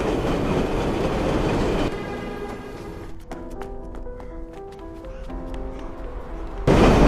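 A subway train in a film scene: a broad rumble of a train running, then a quieter stretch with clicking rail sounds and steady tonal hum, before the loud rolling noise returns near the end.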